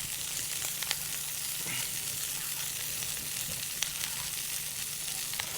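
Garlic sizzles and fries steadily in a hot pan with bacon and butter, a continuous close crackle with small pops and no talking over it.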